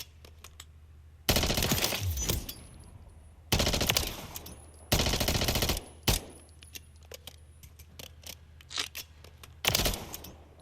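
Striker 9 submachine gun in Modern Warfare III firing in several sharp full-auto bursts of about a second each, loud and close, separated by quieter mechanical clicks and handling sounds, with no talking.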